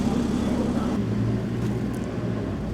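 A Porsche GT4 engine fires up nearby. The low idle rumble settles in after a burst, with faint background murmur around it.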